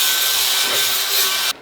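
A saw cuts through a length of bent scrap rebar, making one loud, steady rasping stroke up close that stops abruptly.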